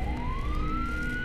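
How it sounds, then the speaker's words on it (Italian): An emergency vehicle siren wails steadily, its pitch sweeping slowly upward across the whole stretch, loud and continuous over a low rumbling background with no talking. "Poi ricordo solo l'urlo della sirena."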